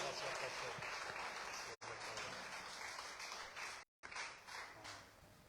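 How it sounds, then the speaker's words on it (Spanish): Church congregation applauding at a Spanish-language service, steady clapping filling the room with two brief cutouts, voices mixed in. "Dele un aplauso al Señor, hermano."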